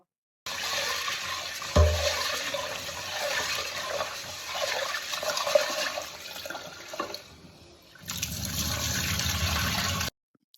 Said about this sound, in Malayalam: ഞാൻ അതേ പയർ കഴുകി വേവിക്കാനായിട്ട് വയ്ക്കാൻ പോവാണ് കേട്ടോ